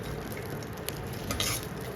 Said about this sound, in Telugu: ఫ్రై అవుతున్నాయండి మంచిగా.